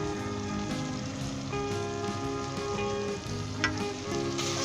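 Mutton with halved tomatoes frying in a pot on medium-low heat, steady crackling sizzle with scraping stir strokes and a few sharper clinks, close and uninterrupted by speech.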